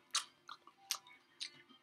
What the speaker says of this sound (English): if I chew my gum like,